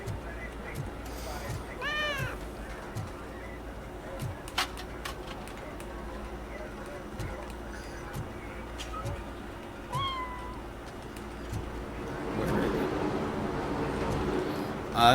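A cat meows in the game Robocop Rogue City, giving several short rising and falling calls at moderate level. A steady rhythmic low background hum runs beneath them.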